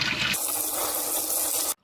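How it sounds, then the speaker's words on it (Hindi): Cold tap water pours over almonds in a strainer, a loud steady gush that drops in tone after a brief start and then cuts off abruptly. "बादाम को ठंडे पानी से अच्छे से वॉश कर लेते हैं ताकि छिलका इसका आसानी से निकल जाए।"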